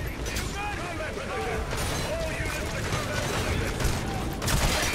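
Rifle gunfire in the PC game Metal Gear Solid 5: The Phantom Pain, a dense, continuous barrage of loud shots and bursts mixed with in-game chaos, with indistinct voices calling out beneath the firing throughout.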